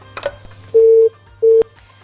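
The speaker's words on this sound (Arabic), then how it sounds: "الخط فصل" Two flat electronic telephone tones play after a call drops, each lasting a fraction of a second, with a short gap between them. A few faint clicks come before them over a low line hum.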